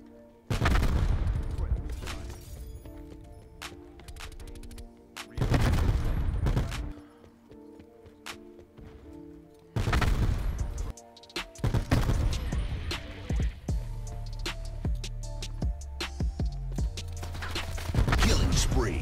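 Rapid-fire gunfire from a video game weapon fitted with rapid fire and hybrid mags, loud dense bursts in several volleys with quieter gaps and game sounds between.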